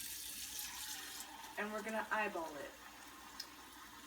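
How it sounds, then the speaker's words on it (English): Tap water running into a normal-sized cooking pot for ramen, a steady gentle splash with a brief louder pouring burst midway as someone speaks over it. "So we're gonna fill up the water"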